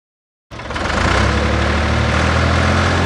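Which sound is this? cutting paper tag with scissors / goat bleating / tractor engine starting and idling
tractor engine starting and idling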